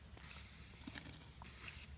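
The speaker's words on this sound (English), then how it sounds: "You gotta spray hard, baby." Silly string sprays from an aerosol can outdoors in two sharp hissing bursts, each under a second long, close and fairly loud, separated by a short quiet gap.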